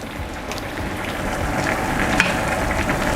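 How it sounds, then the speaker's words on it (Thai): Steady loud sizzling of a stir-fry with fingerroot (krachai) in a pan, a continuous hiss with soft scraping as it is tossed, no voices. "คั่วอีกแป๊บหนึ่งค่ะ"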